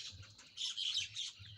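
A myna bird sounds in a story sound effect, giving a string of bright chirps and twitters close by with a faint flutter underneath and no speech.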